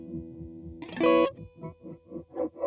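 Electric guitar through the filter effect at the end of a Matthews Technician delay/reverb/looper pedal: a held chord swells brightly, then rhythmic filtered pulses repeat about five times, sweeping in tone, with no voice.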